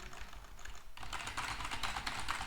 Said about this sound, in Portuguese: Vou digitar aqui, ó.